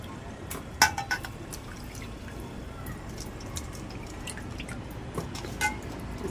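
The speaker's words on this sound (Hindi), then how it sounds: "इस तरह धो करके इसे निचोड़ करके" Water drips and trickles from washed bitter gourd being squeezed by hand, with a few sharp drops and splashes early on, then quieter intermittent dripping.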